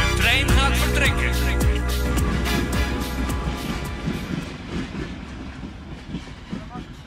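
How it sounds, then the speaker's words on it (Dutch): A train pulls out of a station in French Flanders with loud, steady rumbling and rhythmic clickety-clack wheel knocks close by, the clatter slowly fading while voices are heard faintly in the background. "De trein gaat vertrekken."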